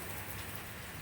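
Heavy rain from a severe thunderstorm pours down in a dense, steady hiss with no breaks, loud and close, and no voices.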